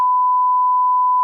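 A single steady censor bleep, a pure electronic tone held unbroken for just over a second, loud and alone with no voices around it.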